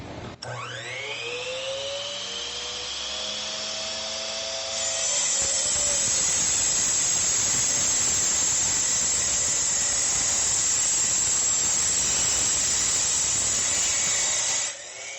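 A TECEPO 1600W 10-inch miter saw spins up with a rising whine, then bites into wood at about five seconds, turning into a loud, steady, harsh cutting roar that runs to the end before cutting off.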